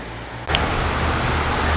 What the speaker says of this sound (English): where there's a very small series of waterfalls here that go across the road